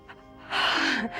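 A sharp, audible sniff drawn in while leaning forward during a seated abdominal exercise, rising quickly to a loud breathy rush that lasts about half a second before easing off.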